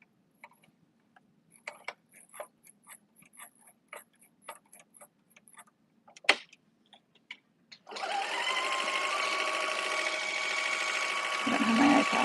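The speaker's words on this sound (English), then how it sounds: "You can wind your bobbin with it on" A sewing machine winding a bobbin: scattered light ticks and clicks at first, then the motor kicks in with a loud, steady whirring drone that continues to the end.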